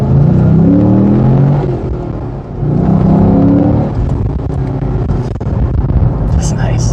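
A Chevrolet Camaro SS engine accelerates with a deep, loud rumble heard from the cabin, swelling twice as the throttle is rolled on, with a voice briefly present over the engine.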